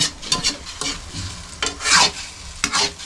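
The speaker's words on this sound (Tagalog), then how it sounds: "Sa tunog ng paghalo" Food sizzles in a pan while a utensil scrapes and stirs it in irregular strokes, close and fairly loud, with no talking.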